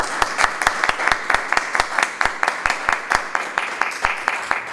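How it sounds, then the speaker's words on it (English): A small group applauds scholarship recipients, a few people clapping at a brisk, steady rate, close by and fairly loud, with no talking over it. "I think we can come up with a round of applause."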